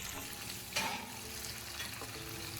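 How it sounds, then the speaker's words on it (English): Sliced onions frying in hot oil in a pan over medium heat, a steady soft sizzle with a few scraping stirs, close and even throughout. "Heat the oil over medium heat, then add the sliced onions to the pan. Stir gently so the onions cook evenly."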